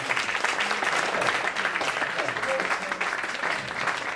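Applause from a stand-up comedy audience in a hall, a dense sustained wash of clapping from many hands, loud and even throughout with a few voices mixed in.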